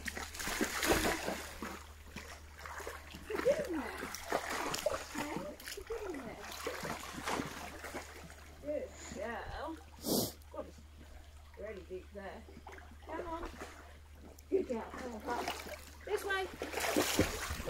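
A giant dog playing wildly in the water, splashing and sloshing in repeated bursts at moderate distance, with people talking and calling out across the whole stretch.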